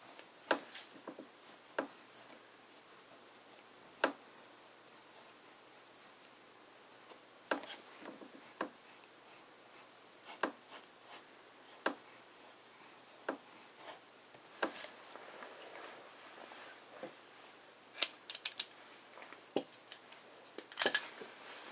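A fountain pen nib scratching across paper under firm pressure, faint close strokes with sharp ticks and scrapes spaced irregularly, quiet and alone.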